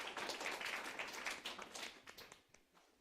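Church congregation clapping during a sermon: a burst of dense, fairly faint applause that thins out and fades over a few seconds.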